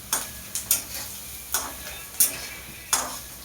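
Poha being stirred in hot oil in a home kitchen, a steady soft sizzle broken by sharp, irregular scraping strokes of a spoon against the pan, close and alone.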